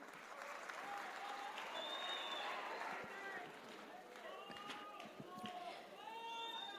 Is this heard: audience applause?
yes